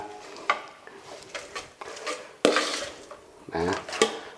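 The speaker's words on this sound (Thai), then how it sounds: "เนี่ยเราจะยำเส้น กับผักก่อน" Noodles and vegetables tossed together in a bowl for a Thai spicy salad with prawn, a series of clattering utensil knocks and scrapes against dishware, irregular and close, with a few sharper clinks.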